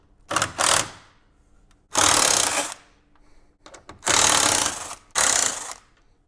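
A ratchet clicks in several quick bursts as 10 mm bolts on top of the grille of a 2016 Ford F-150 pickup are loosened, close and loud with short pauses between turns.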